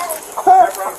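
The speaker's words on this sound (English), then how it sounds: "That chicken thinks it lives there." A loose chicken being chased by deputies in Jacksonville, Florida gives a few short, nasal clucks close by, with brief bursts of noise around them.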